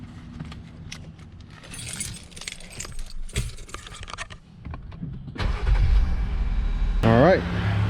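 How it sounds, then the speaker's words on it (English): A Jeep Gladiator is started: keys jangle and clicks sound, then the engine cranks and catches with a loud rise near the end, while a person talks throughout. "now we're going to start up the vehicle"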